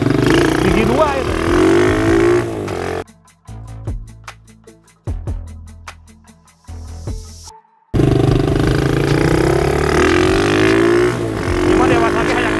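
Honda HSX 110 semi-manual motorcycle accelerating in second gear, its engine rising in short revving pulses during a stretch between loud, close voices that talk before and after.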